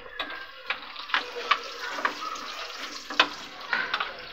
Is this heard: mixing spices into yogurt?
yes